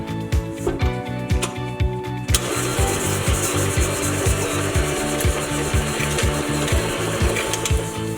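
Thumbprint cookie dough with sugar and almond extract being mixed: a steady, fairly loud mechanical whir with rapid rhythmic thumping starts after a short quieter opening and continues without any talk.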